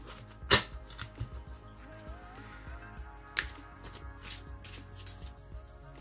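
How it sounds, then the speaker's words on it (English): Tarot deck being shuffled by hand: several brief, crisp riffles and soft card slaps arrive in irregular bursts against a quiet room, close and fairly faint. "let me just shuffle up my Tarot of Opposition deck here"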